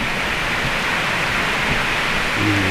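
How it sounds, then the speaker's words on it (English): Steady broadband hiss of rain falling outdoors, continuous and fairly loud, with a faint low hum near the end. "it's starting to rain out here"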